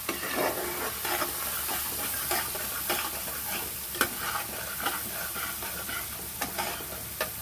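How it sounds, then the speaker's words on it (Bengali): A soybean mixture seasoned with chili powder is stirred in hot oil in a pan, with a steady bright sizzle broken by repeated scraping clinks of the spoon against the pan, close and moderately quiet. "এবার এটাকে তেলের মধ্যে ভালো করে নাড়াচাড়া করে নেবে।"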